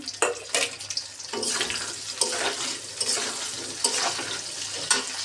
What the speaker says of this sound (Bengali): এখন আলু বেগুনগুলোকে একটু ভাজবো